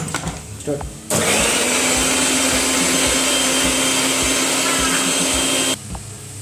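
A kitchen blender grinds spinach leaves with water and spices into a paste, running loud and steady for about four and a half seconds before cutting off, with quiet kitchen sounds before and after.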